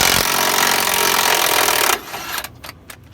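A power tool spins loose 15 mm transmission bolts under a 2006 Dodge Dakota with a 4.7L engine, a loud continuous whirring burst for about two seconds that cuts off abruptly, leaving a few faint clicks and rattles.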